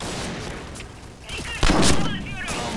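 Gunfire in the online shooter game Point Blank, with a few sharp shots and a louder burst partway through, set against a dense, noisy game background.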